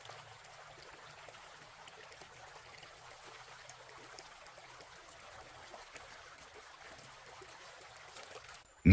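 A flowing stream, the main brook at a fishing spot, gives a soft, steady rush that stays even and fairly faint for the whole stretch. No one speaks, and a brief sharp knock comes right at the end.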